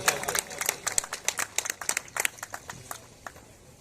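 An audience at a district youth league oath-taking ceremony claps to welcome a guest, a burst of many hands close by, uneven and slightly thinning toward the end, with no talk over it.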